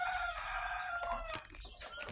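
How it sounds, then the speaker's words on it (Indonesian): Rooster crowing close by among clucking chickens at a small backyard poultry coop, a bright sustained crow followed by short, choppy clucks over a low rumbling background. "Ini ayam kita yang ini."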